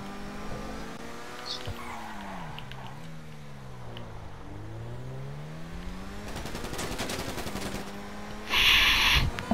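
Gunfire and car sounds from Grand Theft Auto V, with an engine droning and shifting pitch as tires skid, then a loud burst of rapid shots near the end.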